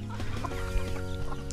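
Several chickens cluck and murmur close by over a low steady hum, with no talking, as they are offered lamb's quarters (goosefoot) to eat.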